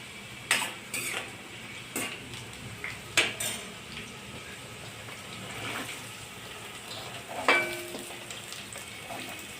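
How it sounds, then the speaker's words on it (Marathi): Mixed vegetables for Bhogi bhaji, including chickpeas, carrots, jujubes, capsicum and peas, sauté in oil under a soft sizzle, while a utensil clinks and scrapes against the pan in several sharp, irregular knocks. "अगदी तेलात व्यवस्थित परतून घेणे"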